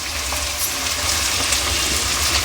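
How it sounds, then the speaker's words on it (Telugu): Thinly chopped tomatoes fry in a pan for a spicy mutton head curry, giving a loud, continuous sizzle with faint stirring scrapes and no talking. "చూడండి, ఇది కూడా మంచిగా మనకు వేగిపోవాలి"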